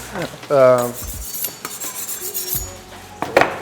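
A small knife cutting slow-cooked beef shin on a board, soft scraping and tapping strokes close by, with a short musical or tonal sound early on and a few clinks.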